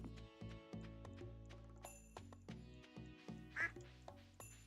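A duck quacks once in the Stardew Valley farming game, a short nasal call rising briefly above steady, tinkling game music.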